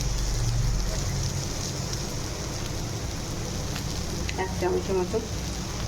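Potatoes and pointed gourd frying in oil in a pan give a steady broadband sizzle, like rain on a surface, with brief speech over it near the end.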